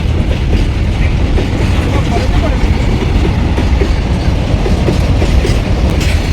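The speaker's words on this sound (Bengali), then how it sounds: "এই দেখো সেই ব্রিজের নিচে দিয়ে ট্রেন যাচ্ছে, মানে ব্রিজের উপর দিয়ে" A train rolls across the Kolaghat rail bridge with a loud, continuous rumble and rhythmic clatter of wheels over the track, close by and sustained throughout.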